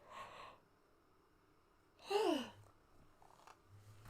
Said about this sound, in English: Oh my god, I can't stop yawning.